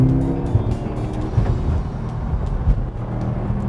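A car engine hums steadily as the vehicle drives along, with tyre noise and brief bumps, no talking.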